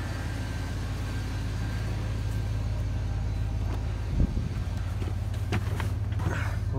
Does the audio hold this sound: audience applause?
no